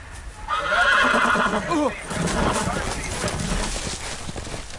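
A horse in a Game of Thrones video game lets out a loud, wavering neigh with hoof clip-clop, followed by scuffling and noisy action sounds.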